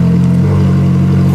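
Ferrari 458 Speciale engine running with its exhaust valves open, a loud, steady, deep drone close to the car with no voices.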